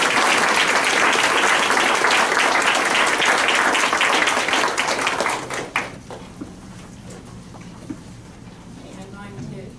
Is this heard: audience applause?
yes